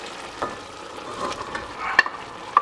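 Sausage and wine sauce sizzles softly in a pan as tomato goes in, a low steady frying hiss with a few sharp clicks of utensil on metal near the end.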